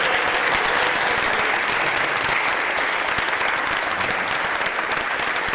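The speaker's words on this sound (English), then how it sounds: "give everybody a round of applause and to Bridge" Sustained audience applause at a Clean Air Buffalo town hall on fighting data centers, a dense, loud, even wash of many clapping hands filling the room without a break.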